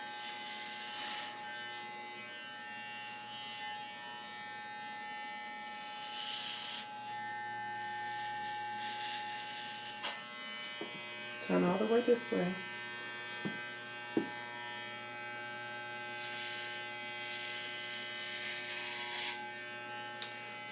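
Electric hair clippers buzz steadily as they cut a boy's hair, a faint continuous hum running throughout, with brief louder bursts partway through and a person speaking quietly.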